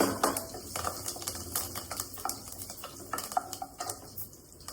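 Curry leaves and a bay leaf dropped into hot tempering oil with asafoetida, giving a crackling sizzle with scattered spits and a few stirring clinks of a metal spoon against the pan.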